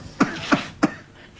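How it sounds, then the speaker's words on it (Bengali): An elderly man coughs three times in quick succession, short dry hacks heard close with no talking. "একটু আস্তে কাশতে পারবে?"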